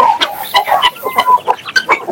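Chickens at a country native-breed (nati koli) farm with roosters, hens and chicks of various breeds, clucking and calling repeatedly in short, close bursts with no talk.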